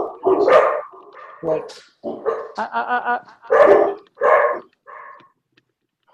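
Several dogs barking in irregular bursts close by, mixed in among people talking in a discussion.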